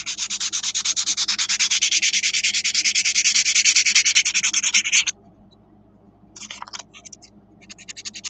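A sander works on wood with fast, rhythmic rasping strokes for about five seconds. It stops, then returns in short, choppy bursts, close and loud.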